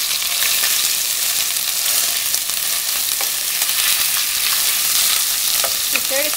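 Pork sizzles and fries in a pan on low heat with garlic as the base for homestyle pork porridge, a steady, close crackling hiss with occasional stirring scrapes and no talk.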